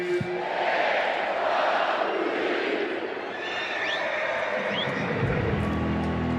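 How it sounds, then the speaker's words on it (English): A packed football stadium roars on third down at a Seahawks–Broncos game, a loud sustained wall of crowd noise with rising shouts and whistles, and a commentator's voice comes in briefly. "This is a chance where you'll hear the crowd in full throat."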